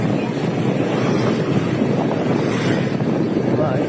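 Tornado winds rip through a village in Blitar, East Java, as a continuous, heavy roar of gusts buffets the microphone, and faint human voices are heard within the noise.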